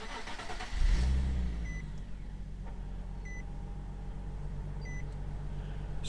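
A Nissan 370Z with push-button start cranks and fires up with a loud burst, then settles into a steady low idle close by, with a few faint electronic warning chimes from an open door sounding over the engine.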